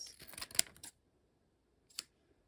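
A few quick snips of scissors slicing through a packet, close and crisp, followed by a pause and one last short cut.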